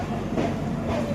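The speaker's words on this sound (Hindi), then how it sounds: "finally we departed from Howrah railway station" Howrah Amritsar Mail train pulling out of Howrah station, a steady low rumble with faint rail clatter heard from on board, close and even.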